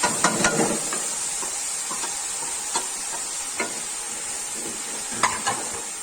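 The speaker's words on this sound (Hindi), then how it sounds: "प्याज को बड़ा प्यारा सा हमें भून लेना है।" Onions fry in a pan for a Hyderabadi qorma, a continuous close sizzle with scattered pops and a few clinks of stirring, with no talking.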